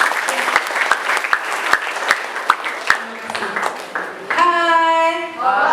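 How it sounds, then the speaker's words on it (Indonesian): Schoolchildren in a classroom clap their hands together during a prosecutors' school visit program, a group applause of quick, uneven claps that starts loud and then fades, ending with a brief burst of voices near the end. "Tepuk tangan dulu."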